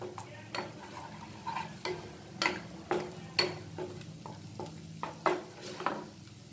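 Chopped ginger frying in ghee over medium heat, stirred with a spoon in a pan: a soft steady sizzle under regular scraping and clinking strokes, roughly one every half second, fairly quiet and close.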